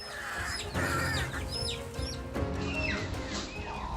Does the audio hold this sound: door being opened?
no